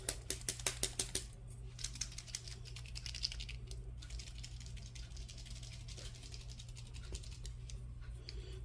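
A paint pen is shaken, producing a quick series of about seven sharp, evenly spaced rattling clicks at the start, followed by softer scattered ticks over a low background hum.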